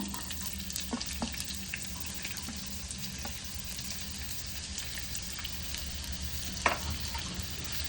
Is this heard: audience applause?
no